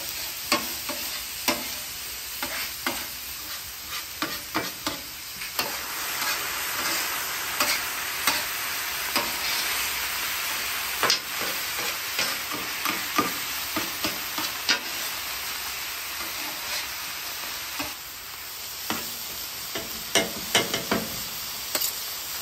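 Ground beef and peppers sizzle steadily in a hot pan while a utensil repeatedly scrapes and stirs, breaking up chunks of meat; close, continuous frying with regular clattering stirs and no talking.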